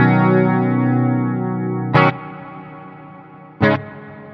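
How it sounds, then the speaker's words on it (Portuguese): Guitar played through a Matribox 2 Pro multi-effects unit with reverb set to a long decay tail: a sustained ringing chord fades slowly, then two sharp strummed attacks each leave a lingering, washed-out tail. "Percebem que aumenta o tamanho da cauda do reverb"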